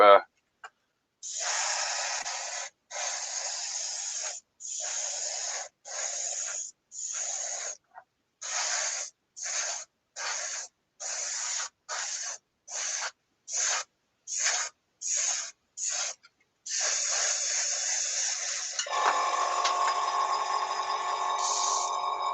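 Airbrush spraying paint onto a scale model, a close hiss in repeated short bursts of varying length, ending in a longer continuous spray with a lower airy roar.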